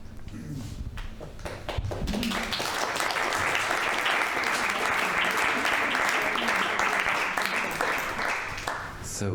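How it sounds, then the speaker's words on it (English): Sustained, dense audience applause at the AEC Congress 2024 digital innovation session, rising after a short patchy start into a loud, steady wash of clapping that fills the hall to the end. "So this is applause to everybody who contributes to these videos."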